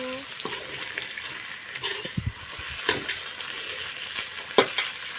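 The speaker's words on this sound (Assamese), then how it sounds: "এয়া মই ধুনীয়াকৈ কেৰাহীত ভাজি লৈছোঁ" Potatoes sizzle and crackle steadily in a hot kadai seasoned with turmeric, salt and spices, with scattered stirring clatters and a few sharper scrapes, close and continuous with no talking.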